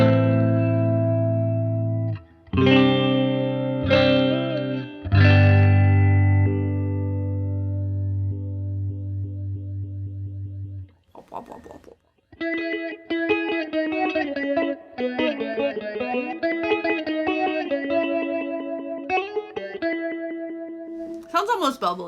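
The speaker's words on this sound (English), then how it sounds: "Crank up the depth so you can really hear it." Electric guitar played through a Catalinbread Many Worlds phaser pedal with depth turned up, sustained chords and then quicker picked notes sweeping with a strong, loud phasing swirl, played alone.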